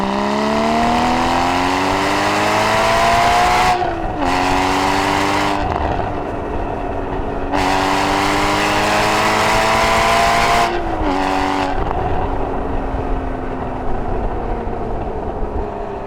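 Porsche Cayman 981 GT4 on a public road, its engine loud and near, revs climbing steadily through each gear with brief dips at the shifts, then pulling hard again, no talk over it.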